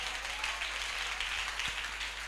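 A church congregation at Sunday worship claps together, a continuous wash of many hands that stays even and fairly soft throughout.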